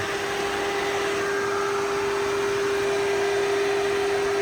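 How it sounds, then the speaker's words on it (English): A Mini Cooper engine cooling fan runs hard as the engine gets up to temperature, making a loud, steady whirring roar with a constant tonal hum that stays unchanged throughout. "fan is working like crazy"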